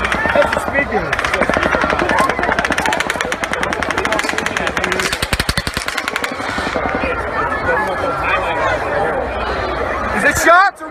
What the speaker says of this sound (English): Those are gunshots, ain't they?